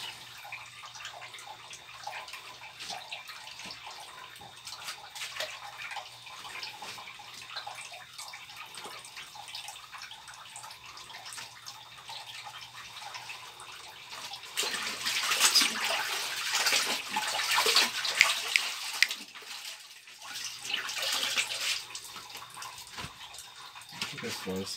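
Clothes washed by hand in water at home, with splashing and sloshing that grows louder and busier in the second half, over a steady low background hum.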